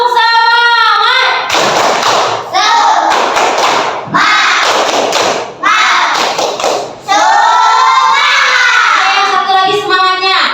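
Children in a classroom doing a rhythmic spirit clap chant, loud and close, with bursts of group shouting and voices chanting over sharp repeated claps and thumps.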